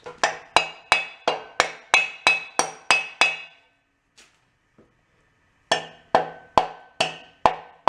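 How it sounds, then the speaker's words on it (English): A brass hammer strikes frozen engine parts from a flooded 1958 Volkswagen Beetle in a fast steady series of ringing clanks, pauses briefly, then resumes the same sharp rhythmic blows, close and loud. "Normally I would not beat it with a brass hammer"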